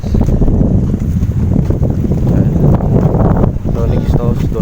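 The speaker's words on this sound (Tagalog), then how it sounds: "So ganito naman talaga pag dagat, laging mahangin." Strong wind blowing over the sea, a loud continuous roaring buffet against the microphone with low rumble throughout; a voice speaks in it.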